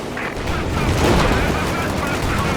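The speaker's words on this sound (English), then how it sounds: "they actually sniped one of Nick's tanks there" Dense gunfire and explosive rumble from a Company of Heroes 2 battle as a tank is sniped, a loud continuous volley of shots and booms with speech running over it.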